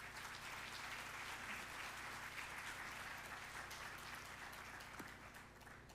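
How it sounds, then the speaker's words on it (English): Sustained applause from an audience at a college celebration, a steady dense patter of clapping lasting throughout and tapering slightly at the end, heard from a moderate distance. "That's a round of applause."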